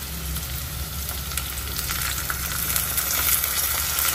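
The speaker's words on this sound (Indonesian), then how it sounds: "Nah, kita tambahkan air kurang lebih" About 100 ml of water goes into a pan of shrimp and tempeh stir-frying in sweet soy sauce. It makes a loud, steady, close sizzle with faint stirring clicks, and no one speaks.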